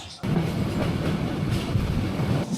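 Kalni Express train on the Dhaka to Sylhet run, a steady, loud rumble of wheels and carriage with rhythmic clickety-clack throughout, heard from inside or close by after a brief quiet start.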